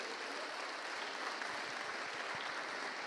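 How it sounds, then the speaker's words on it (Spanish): A church congregation gives steady, even applause during a Spanish-language service, a soft continuous rush of many hands clapping heard from some distance. "Dale un aplauso al Señor, dáselo fuerte."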